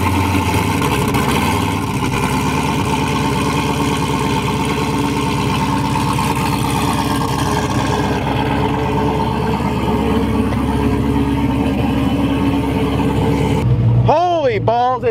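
A race car engine runs at a steady, rumbling idle with a low hum throughout, outdoors in freezing cold, while people talk over it, and a brief rising whine comes near the end.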